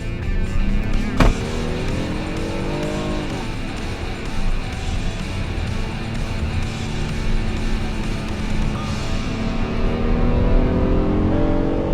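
A 2018 Honda Odyssey Touring minivan with a V6 driving along, giving a continuous cabin drone of road and engine noise with a rising whine and one sharp knock early on, with no voices.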